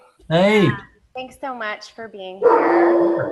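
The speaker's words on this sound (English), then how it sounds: "that's my dog barking at the thunder" A dog barks and yips at thunder in a home, a few loud close barks and whimpers at the start, then a person talks while more muffled yaps come between the words.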